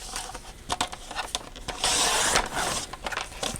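Paper being cut down to 7 inches for a half-letter planner pocket folder: a few quick, close slicing and rustling strokes, with a longer scraping pass in the middle.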